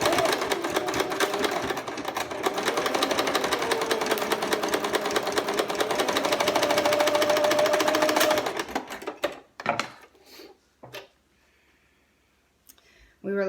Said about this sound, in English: Pausing my story to sew.